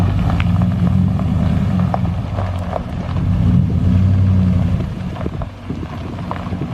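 A pickup truck's engine hums steadily at moderate volume while the truck is driven, with a low drone rising and easing slightly through the stretch and some rattles and wind noise over it.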